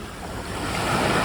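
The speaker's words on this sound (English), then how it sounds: "Watch those waves." Ocean waves wash in as a broad, steady rush of surf that swells slightly louder toward the end, with no voices over it.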